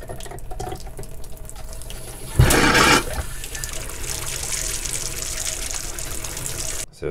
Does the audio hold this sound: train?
no